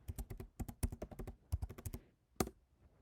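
Fast typing on a computer keyboard while entering labels into a spreadsheet, crisp close key clicks in quick bursts with short pauses and a single final tap.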